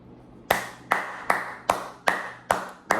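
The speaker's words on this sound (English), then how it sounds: "Round of applause." Seven sharp, evenly spaced claps about every 0.4 seconds, crisp and close, with no talk.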